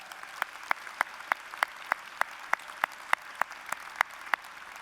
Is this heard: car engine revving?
no